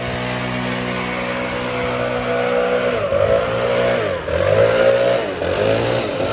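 A gas leaf blower clears clippings off a freshly mowed lawn with about ten days of growth. Its engine drones loud and close without a break, and the pitch rises and dips as the blower is swung.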